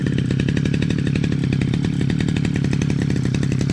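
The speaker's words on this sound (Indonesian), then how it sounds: "Ini mau proses bersihin kebun pakai mesin." A motorized garden-clearing machine works a village garden in Cineam, Tasikmalaya, its engine a loud, steady two-stroke buzz close by with a rapid pulsing throb throughout and no talk.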